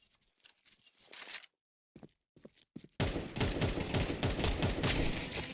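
Rapid gunfire from a competitive video game firefight, bursts of crackling shots starting sparse and stuttering with brief gaps, then becoming a dense, loud, continuous barrage for the final few seconds.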